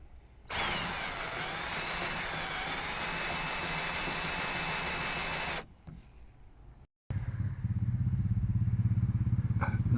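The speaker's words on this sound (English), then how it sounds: "So for the 9mm, I'm going to drill from the outside in, just so don't leave any big burrs on here." A drill cuts 9mm holes through the steel body of a 2019 Vauxhall Vivaro van, a loud high steady whine for about five seconds, then stops, and a second burst of drilling starts after a short pause.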